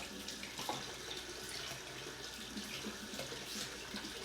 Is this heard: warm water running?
yes